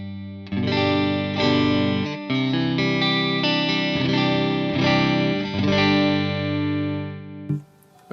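Jackson Soloist electric guitar played with a clean tone, ringing chords strummed in several sustained bursts with a bright, effected shimmer, fading out near the end.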